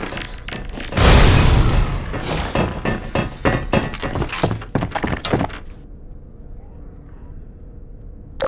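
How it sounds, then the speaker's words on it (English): A Zombine's grenade going off in Half-Life 2: a sudden loud blast followed by a rapid series of sharp impacts and crashing debris, then fading into a quieter low rumble. "Look out! It's got a grenade!"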